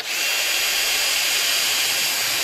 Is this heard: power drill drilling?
yes